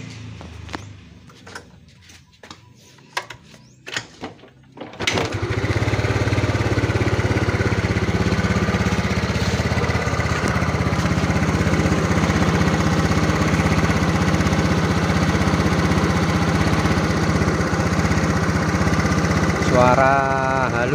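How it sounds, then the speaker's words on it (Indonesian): Motorcycle engine idling after a piston and piston pin replacement, starting with a few sharp knocks and clatter before a steady, even idle that runs on for about fifteen seconds close to the mic. "Suara halus ya, kayak mesin normal lah, enggak terlalu kasar-kasar amat."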